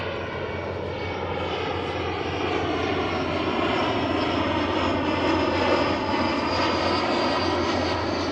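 A passenger jet flies overhead near South Boston's WWII Memorial, its engine roar loud and continuous with a broad rushing rumble that swells slightly as it passes.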